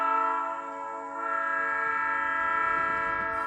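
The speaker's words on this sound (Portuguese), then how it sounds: "Um trem trafega rente à margem de um rio." A train rolls along a riverbank, its horn sounding as a long, steady multi-tone blast held throughout at moderate distance, with faint rumble beneath and no voices.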